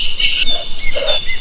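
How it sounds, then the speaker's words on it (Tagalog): A bird calls in a short, bright burst of chirping, close and fairly loud, with no talk over it. "Ibon lang pala."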